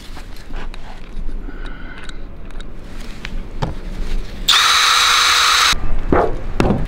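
A power drill drives screws into a metal roof during a repair, with one loud, steady burst of whirring lasting just over a second amid clicks and handling knocks.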